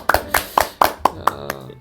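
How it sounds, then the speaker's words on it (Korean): Hand clapping during an idol livestream: about seven sharp, close claps in a steady, even rhythm, the last ones slightly softer. "지금 박수"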